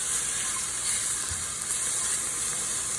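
Peppers cooking in a hot pan before being combined for chicken and shrimp scallops scampi, giving a steady, even hiss of sizzling with faint crackles, close and constant with no voices.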